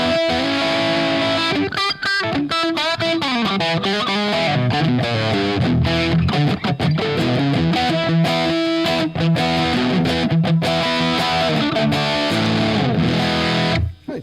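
An electric guitar played through a Rat distortion pedal, with a 1967 Gretsch 6120 in the session, rings out continuously with loud, gritty overdriven chords and riffs for the whole stretch, no talking.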